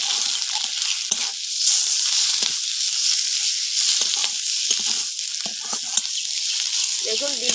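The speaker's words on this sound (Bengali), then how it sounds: "মাছের ডিমটা একটু ভেজে নেবো হালকা করে" Catla fish roe fries in oil with turmeric and salt, giving a steady close sizzle broken by scraping stirs and small pops. A brief voice sounds near the end.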